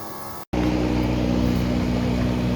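A 1975 Porsche 914 engine, fitted with a new fuel pump, idles with a steady close drone after a momentary dropout near the start.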